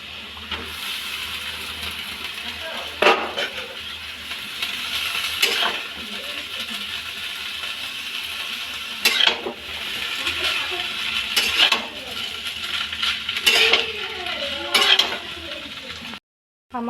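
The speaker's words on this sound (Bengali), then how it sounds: "আমি এখন চাউমিনটাকে ছেড়ে দেব" Chow mein noodles stir-fry in a pan with fried potatoes, salt and turmeric, sizzling steadily up close while a utensil scrapes and tosses them every few seconds, until the sound cuts off abruptly near the end.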